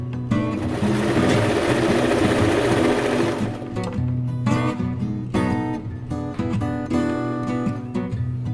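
Sewing machine stitching bag strap lining, a loud close mechanical whir running in bursts, with a long continuous run followed by shorter stop-and-start stretches.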